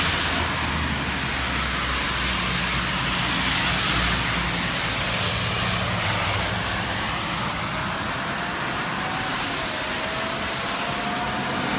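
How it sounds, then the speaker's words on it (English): Cars passing on a road during a heavy summer downpour in Big Bear Lake, California, their steady tire and engine roar blending with loud rain across the whole stretch, with a faint rising whine near the end. "after these cars pass"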